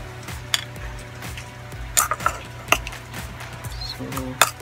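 A spoon stirs a homemade teeth whitening paste in a small container, with a series of sharp clicks and scrapes against the sides at irregular intervals over a faint background hum.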